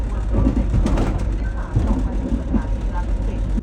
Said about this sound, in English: What really stood out though was the constant rattling of the train.